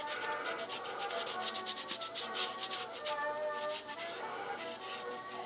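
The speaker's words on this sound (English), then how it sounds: "So you want to take some of the ammonia and see how that cleans off." Steady, continuous rubbing as an old wooden hand-crank coffee grinder is scrubbed clean with ammonia, a dense close scratchy swishing that never lets up, with no talking.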